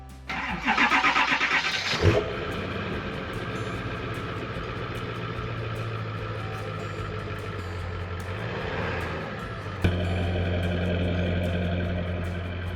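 An off-road camper van truck cranks with a brief starter whir, then its engine catches and settles into a steady, close idle with a low rumble, revving briefly near the end before returning to idle.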